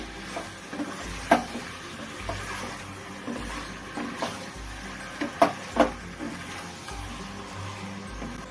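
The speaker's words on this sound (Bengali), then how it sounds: "চিকেনটা আমি একটু ভাজা ভাজা করে নেব প্রথমে" Chicken sizzles quietly in a hot pan, a soft continuous frying hiss broken by a few clinks and scrapes of stirring.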